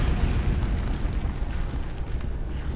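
A grenade blast in the horror game Amnesia, a loud continuous rumbling roar that fills the whole stretch with dense low-end boom and debris noise, with no voices over it.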